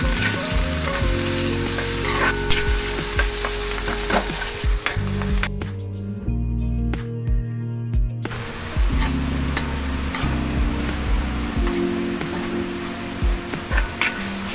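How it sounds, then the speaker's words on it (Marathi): Onion frying in hot oil for Mangalorean-style prawn sukka, a steady loud sizzle with scraping stirs, briefly interrupted midway before the frying hiss resumes. "तेल होऊन गेला पियाव घालता."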